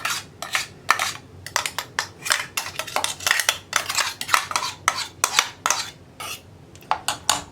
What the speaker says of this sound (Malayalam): കരിക്ക് ചേർത്ത് ഒന്ന് ഇളക്കി കൊടുക്കാം.